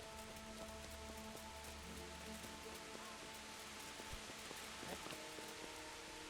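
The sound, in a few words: rain falling and dripping from a roof in the video game Kingdom Come Deliverance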